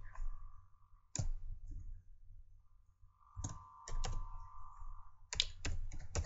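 Code being typed on a computer keyboard, quiet close key clicks in short bursts separated by pauses, with a faint steady hum behind.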